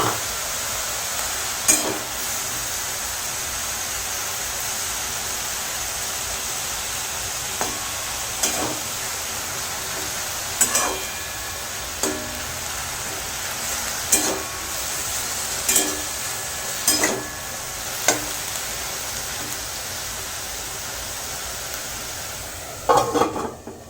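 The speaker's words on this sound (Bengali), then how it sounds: "কড়াইতে লাউ এবং টমেটো একটু ভাজা হয়ে যাক" Bottle gourd and tomato fry in a wok with a constant, close sizzle, broken every couple of seconds by sharp clicks and scrapes of stirring against the pan, with no talking.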